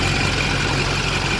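Duramax diesel work truck engine with 400,000 miles and some blow-by, idling in a steady, even low rumble with no talk over it.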